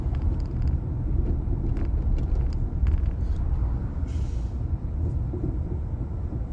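A bus idles and rumbles nearby while dropping off kids, a steady low engine drone with brief hiss and clatter over the top, no voices.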